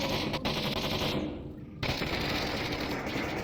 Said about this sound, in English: A couple going down in a flurry of fire on the corner.